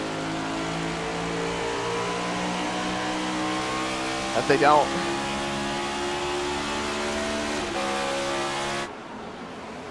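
Race cars circling the Phoenix track in a NASCAR racing game, a steady droning engine roar that holds for several seconds before cutting off, with a commentator talking over it.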